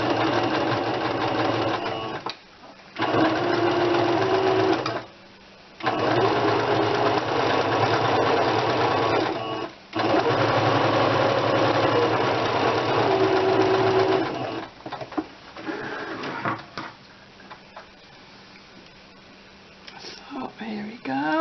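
A sewing machine runs a stitch along the top edge of a fabric ruffle for a small doll dress, in several loud bursts separated by short pauses, with a person speaking over parts of it.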